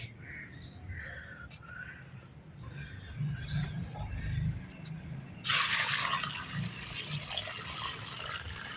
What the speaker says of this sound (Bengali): এই যে এবার এর উপরে আমাকে জল দিয়ে দিতে হবে। জল দেবো এবার আমি।